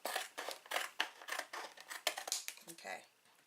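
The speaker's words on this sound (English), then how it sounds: "I'm just going to use my scissors." Scissors snipping through paper while making a Bible mat, a series of close, crisp cuts with short pauses and rustling between them.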